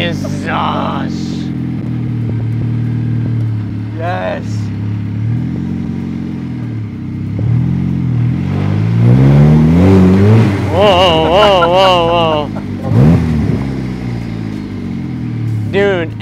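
A DF Goblin kit car accelerates on its first drive, its mid-pitched engine revving and rising in bursts, loud and close, with excited talk from the occupants running over it throughout.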